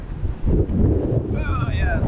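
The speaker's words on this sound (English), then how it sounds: "yeah, it's windy out here" Strong wind at sea aboard a Gunboat 68 sailing catamaran near the Strait of Gibraltar buffets the microphone with a low, rumbling roar throughout, while a voice speaks briefly toward the end.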